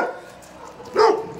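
A dog barks once at dawn, a single short bark rising from a quiet background partway through, fairly close and alone without talk.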